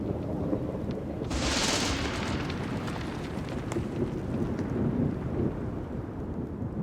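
Thunder rolls through a mountain storm over steady rain and wind, with one brighter crack early on before a long, deep rumble continues beneath the downpour.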